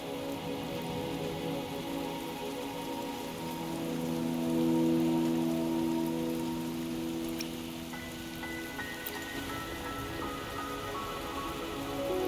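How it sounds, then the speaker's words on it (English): Rain falling in the video game Wuthering Waves, a steady close hiss of rain on surfaces that lasts the whole stretch, under sustained tonal game music with no talking. "Are you trapped here by the rain?"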